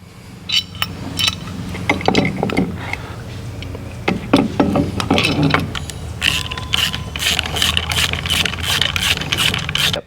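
Metal clicks, clinks and ratcheting as a JIMS engine case splitter tool is fitted and threaded onto the crankshaft of a Harley-Davidson Milwaukee-Eight engine, in irregular bursts close to the mic, with a faster run of sharp ticks near the end.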